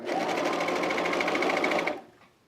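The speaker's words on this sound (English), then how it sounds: "I lightened up my pressure on the presser foot so that it would go through the thicknesses a little better." A sewing machine stitches a 3/8 inch seam through thick layers of fleece, running in a fast, even whir for about two seconds before stopping abruptly, close and loud with no talking.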